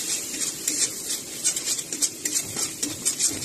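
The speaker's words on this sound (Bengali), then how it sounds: "সবগুলো উপকরণ মিলিয়ে মোট আমি 1 মিনিট মতো ভেজে নিয়েছি" Mustard and green chilli paste for a hilsa curry is fried and stirred in a pan, with soft repeated scraping and light sizzling heard close up and at moderate volume.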